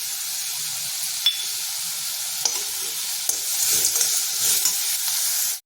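Tomatoes frying in a pan for rasam, with a steady bright sizzle and hiss throughout, broken by a few sharp clicks of a spoon stirring against the pan, close and fairly loud with no talk.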